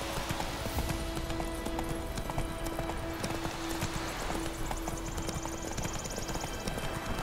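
Horse hooves clip-clop steadily on the ground in The Witcher 3 video game, a continuous rhythmic trot under a sustained musical tone and low ambient background.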